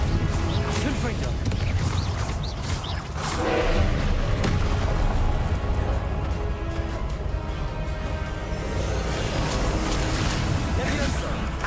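Explosive thuds and crashes of the Confringo fire spell in the game Hogwarts Legacy burst repeatedly amid dense, loud battle noise, the impacts rolling into one another throughout.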